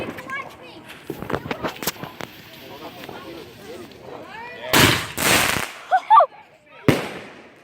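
Fireworks burst overhead at a backyard display, with a run of sharp cracking pops early on, then two big loud booming blasts close together and a final bang, while voices talk and react throughout.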